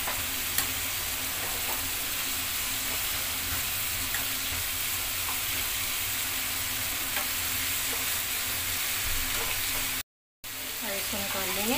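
Marinated Afghani chicken pieces fry golden in a pan with a steady, dense sizzle and crackle, close and constant throughout, broken only by a brief cut near the end.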